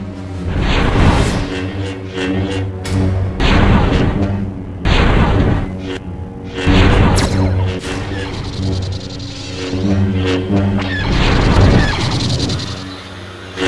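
Loud, booming bursts of video game gunfire from a weapon come in several heavy volleys separated by short gaps, with a voice speaking at the same time.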